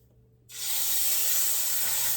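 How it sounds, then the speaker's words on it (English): Meat dropped into a hot pan with olive oil for searing before slow cooking, a sudden loud sizzle that bursts in after a quiet moment and holds as a steady hiss. "I just want to sear these because it brings out so much flavor"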